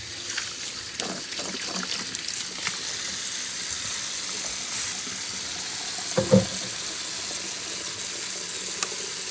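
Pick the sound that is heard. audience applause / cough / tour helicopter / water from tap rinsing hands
water from tap rinsing hands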